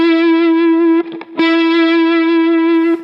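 Electric guitar with an effects unit and distortion playing a sustained note with radial vibrato, loud and continuous, briefly interrupted by a short gap before the held, wavering note resumes.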